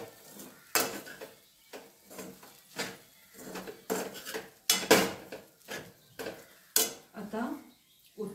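A utensil stirs kande pohe made of flattened rice with onion in a pan, giving close, irregular scrapes and clinks against the metal at a steady, unhurried pace.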